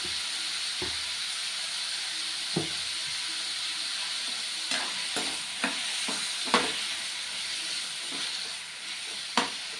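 Tomatoes with salt fry in a pan with a soft continuous hiss, broken by occasional sharp taps and scrapes of a spoon stirring, close and quiet with no voices.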